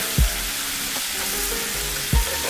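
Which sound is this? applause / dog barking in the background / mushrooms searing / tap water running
mushrooms searing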